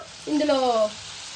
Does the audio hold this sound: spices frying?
yes